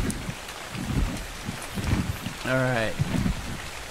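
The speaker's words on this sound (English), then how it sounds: "It's raining." Rain falls in the game ARK Survival Evolved as a steady hiss with soft patter, while someone talks over it in bursts and a brief tonal in-game sound rings out midway.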